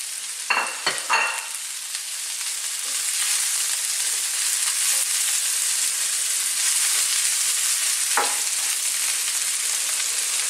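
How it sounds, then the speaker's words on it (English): Bean sprouts sizzling in a hot pan over high heat, a continuous close frying hiss with a few scraping stir sounds from the utensil near the start and again later. "we're going to be frying this around"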